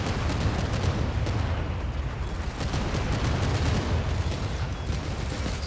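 A dense, loud barrage in Stranded: Alien Dawn mixes rapid gunfire with repeated explosions, and the sharp shots and blasts keep coming without pause over a heavy rumbling bed.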